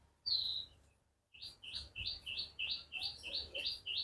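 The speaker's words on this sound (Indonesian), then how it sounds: "Terus di situ ada indukan betina kenari lagi dijemur." A female canary sunning in a cage chirps in a quick run of bright, evenly spaced tweets after a single opening call, close by and clear over faint background noise.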